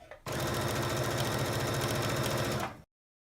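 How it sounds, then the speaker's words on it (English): A sewing machine runs in one steady, continuous burst of stitching around the edge of a quilted bag, loud and close, with no talking, then stops abruptly. "Just stitch all the way around, even with the edge of the foot."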